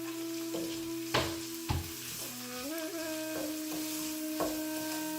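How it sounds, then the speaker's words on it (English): Red onions frying and browning in a pan, a steady hiss with occasional louder spatters and utensil knocks, a faint tonal hum underneath, no one speaking. "as the onions are kind of browning and cooking"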